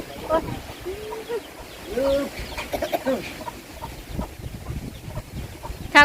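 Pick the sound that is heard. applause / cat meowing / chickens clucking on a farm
chickens clucking on a farm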